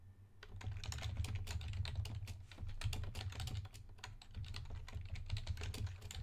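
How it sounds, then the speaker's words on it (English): Rapid typing on a computer keyboard, a steady close-up patter of key clicks with brief pauses between bursts. "Okay, we're typing that in."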